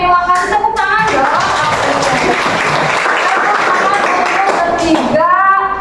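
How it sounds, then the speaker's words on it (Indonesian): Classroom clapping for students who answered questions in a teaching lesson, a loud, dense round of hands filling the middle, with the teacher's and children's voices heard at the start and end. "Tepuk tangan dong."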